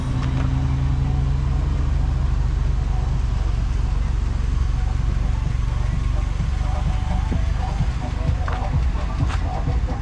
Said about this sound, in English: gotta wait for these cars to pass across.